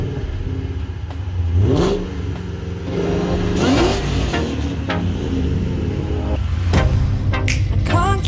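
Ford Mustang Shelby GT500 V8 with 720 horsepower and air suspension revving loudly close by, several sharp throttle blips rising and falling over a steady idle rumble.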